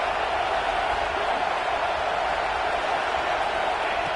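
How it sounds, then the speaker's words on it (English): A football stadium crowd roars in a continuous, dense wall of cheering noise, steady and loud throughout without breaks. "this crowd is fired up. Listen to this noise here."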